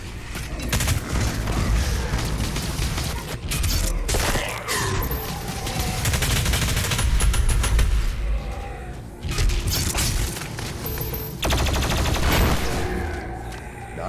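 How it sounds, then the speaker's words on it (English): Plasma rifle fire in a shooter game, a dense, nearly continuous rattle of rapid shots broken by heavy booming explosions, loud throughout with brief lulls. "Plasma rifle can quickly destroy energy shields, which trigger a damaging explosion."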